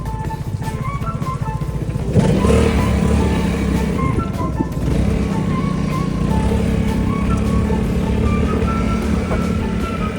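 A motorcycle with a reinstalled windshield pulls away on a test ride. The engine hums low at first, then jumps louder and stays at a steady, close droning roar for the rest of the run.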